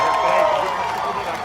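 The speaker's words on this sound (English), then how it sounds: "Applause, that sounds so good!" Audience applause at a live outdoor Broadway event in Duffy Square: a steady, dense wash of clapping and crowd noise that holds evenly from start to finish.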